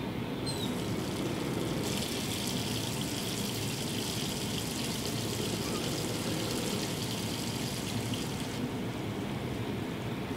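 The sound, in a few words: bathtub filling with water, from video game Life is Strange 2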